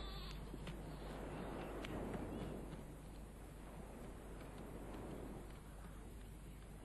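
A male goat in a wildlife setting bleats over a faint steady background hiss, with a few soft calls near the start that give way to quieter ambience.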